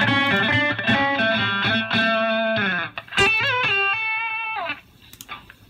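Electric guitar played through an amp-modeling plug-in with a Ribbon 121 cabinet mic, heard as sustained distorted chords and bent notes with a chorus-like shimmer, loud and continuous before easing into quieter picked notes.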